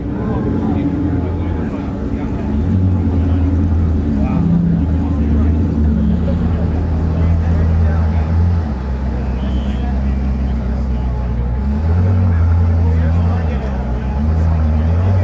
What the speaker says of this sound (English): There's a Koenigsegg pulling in now